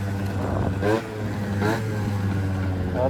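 Motorcycles passing by, engine drones rising and falling as a couple of bikes sweep past over a constant low rumble.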